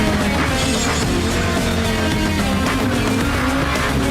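Digital Hot Wheels cars race in the mixed-reality game Hot Wheels Rift Rally, engines roaring loud and continuous with tire squeals and skids throughout, with no talk over it.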